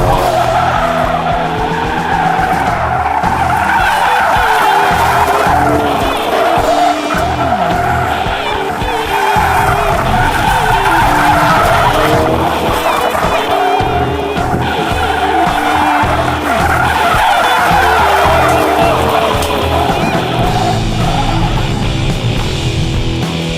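A Ford Focus RS Mk3 drifting sideways, its tyres skidding and squealing almost nonstop over a loud, steady engine roar, with no break in the sound.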